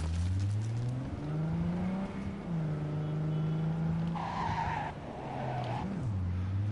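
A car in the video game Cyberpunk skids with squealing tires over a revving engine, loud and continuous for several seconds with no talk.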